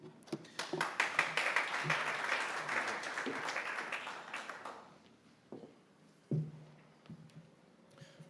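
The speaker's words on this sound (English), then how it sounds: "let's give a round of applause for Frank" A conference audience applauds a speaker, the clapping starting quickly, building into a dense burst, then thinning to scattered claps, with a few louder individual claps near the end.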